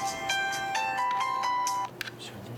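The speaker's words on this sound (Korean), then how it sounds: "새벽에 걸려온 전화 한 통" A phone rings in the early hours at a coast guard station on Yeongjong Island, Incheon, a bright electronic tone repeating several times, then cutting off, leaving faint room noise.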